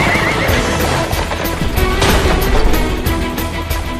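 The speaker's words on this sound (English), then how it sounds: "This is a horse-drawn carriage." Horses whinny loudly over a steady clatter of hooves and carriage noise from a horse-drawn carriage in an animated scene, the neighs rising out of a dense, busy mix that runs throughout.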